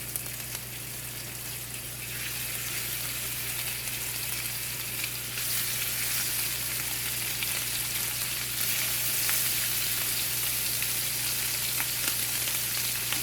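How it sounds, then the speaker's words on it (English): Seasoned scallops sear in a smoking-hot skillet with a loud, steady sizzle and spatter that swells slightly as more pieces go in, with no talking. "I'm going to lay my scallops seasoned side down"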